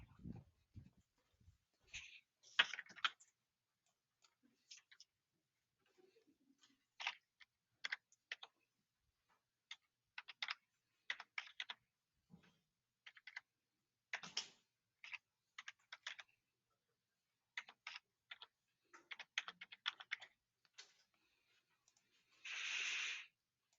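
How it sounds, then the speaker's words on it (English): Someone types on a computer keyboard in short irregular bursts of crisp clicks separated by silent pauses, quiet and close, ending with a brief louder rustle. "I'm gonna type it in on a keyboard."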